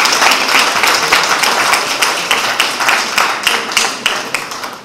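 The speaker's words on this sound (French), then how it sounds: "il faut l'applaudir" Conference audience applauding a first lady at a talk on obstetric fistula awareness, loud, close clapping from a crowd with a rhythmic pulse, gradually thinning toward the end.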